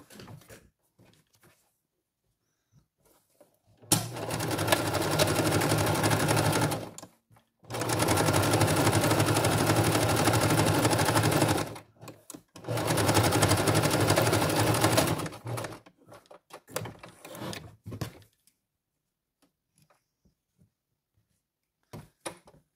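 A sewing machine stitches felt pieces in three loud, steady runs of rapid mechanical whirring separated by brief pauses, followed by scattered handling clicks and then near silence.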